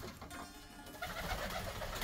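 Baku high-flying marbled pigeons coo at a flying loft. There are a few soft, low coos close by, with a brief quiet gap, then a fuller burst of cooing and light fluttery noise.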